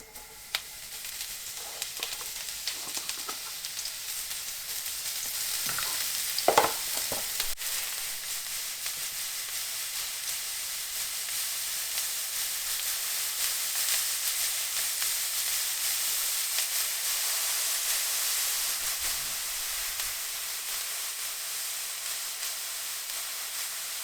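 Torn blue grey oyster mushrooms fry in a hot pan with a steady, broad sizzle and hiss that runs throughout, with a brief louder clatter early on.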